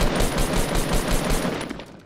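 Rapid gunfire in the battle royale game Fortnite, a dense continuous barrage of loud shots at close range with no talk over it.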